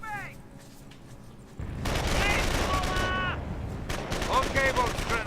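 Rapid bursts of MG42 machine gun fire and other gunfire in a World War II-style video game battle, loud and continuous, with overlapping shots and voices talking throughout.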